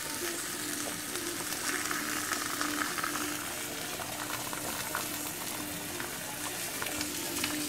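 Fish fries in a pan after being flipped to its other side, a continuous moderate sizzle and crackle with a faint low hum beneath.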